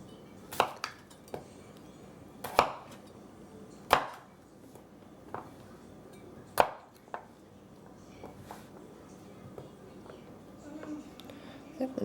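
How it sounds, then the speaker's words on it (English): Knife chopping potatoes into small pieces on a cutting board for a honey mustard ham hash, with sharp irregular strikes over a soft kitchen background. "I'm going to cut these fairly on the small side"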